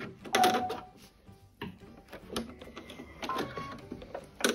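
A sewing machine switched back on after being raised, giving a quiet mechanical whirring and clicking with intermittent louder clacks and brief rustles of handling, no voices.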